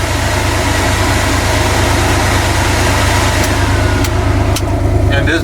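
Air conditioning fan blowing inside a 1974 Ford Bronco, a loud steady broadband whoosh close up with a low engine hum underneath, running constantly with no talking.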